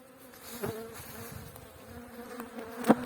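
Honey bees from an aggressive colony buzz steadily around an apiary, a continuous close droning hum with individual bees passing near and one sharp loud buzz flaring up toward the end.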